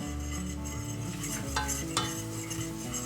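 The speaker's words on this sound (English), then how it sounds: "Just keep this thing stirring and going." Milk being stirred into a casserole sauce in a pot for a cheesy broccoli, ham and rice casserole: soft, steady scraping stir strokes sit under continuous background music, with no talking.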